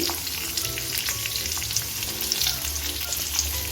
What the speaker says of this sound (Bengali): আমি এখন কাবাবগুলো দিয়ে দিচ্ছি